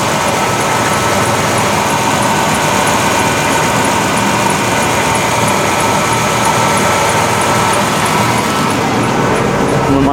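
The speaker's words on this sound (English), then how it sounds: "Here's the 300 straight 6." A 1991 Ford F-150's 300 straight-six runs with its exhaust missing, a loud, steady, coarse mechanical drone and rumble that holds unbroken and close throughout, with no talking over it.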